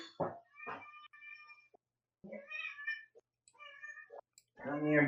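Several distinct meows from a male house cat, loud and close, coming in bursts with short pauses between them, the last one a long drawn-out cry.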